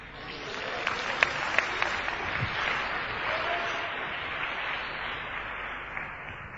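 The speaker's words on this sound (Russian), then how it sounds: "Дайте Богу аплодисмент." Applause from a church congregation during a sermon, a sustained, moderately loud ripple of many hands clapping with a few sharper individual claps standing out near the start, murmuring voices faintly underneath.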